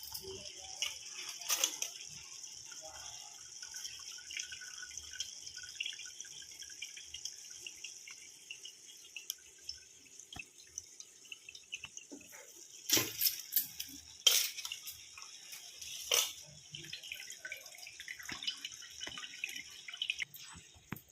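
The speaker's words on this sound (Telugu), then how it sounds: "ఇదిగోండి రైస్ అంతా వడగట్టి వేసాను" Soaked rice is drained and rinsed with water in a kitchen, with steady trickling and dripping water and intermittent louder splashes and clatters of a vessel, no talking.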